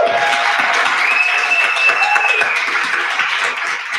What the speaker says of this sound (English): Can we just get another round of applause to Candace, the chairman, and everybody else?